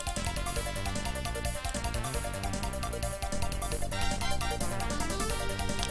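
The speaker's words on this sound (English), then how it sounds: "what we're hearing right now is the AWE64 synthesizer" Dense synthesized music from an AWE64 wavetable synthesizer on a DOS-era PC, full and continuous with layered melody and percussion, played alone at steady loudness.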